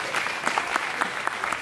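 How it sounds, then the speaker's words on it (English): An audience claps steadily in a dense, even round of applause that stays loud and close throughout. "Another round of applause for Ashka."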